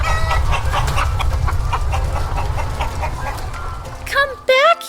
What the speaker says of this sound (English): Come back here, you chickens!